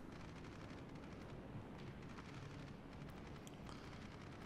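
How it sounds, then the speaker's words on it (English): Anti-aircraft guns on a warship in World of Warships fire in a dense, continuous rattle of distant bursts, faint and unbroken, with scattered sharper cracks over a rumbling naval battle background. "So let's just use my AA guns."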